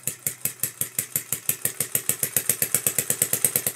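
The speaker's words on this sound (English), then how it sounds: "I previously built an engine that ran purely on compressed air." A small engine running purely on compressed air, with a diaphragm sealing against its piston, chuffs in a fast, steady rhythm of sharp exhaust puffs at roughly seven beats a second, close and alone.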